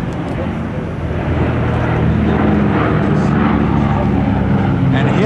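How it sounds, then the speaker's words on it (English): A P-47 warbird roars steadily overhead at the Duxford air show, a loud continuous engine drone with a commentator talking over it. "And here comes a P-47."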